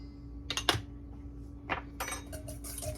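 Broccoli salad with Dijon being stirred in a bowl, a few quiet clinking and scraping bursts of a utensil against the dish, separated by brief pauses.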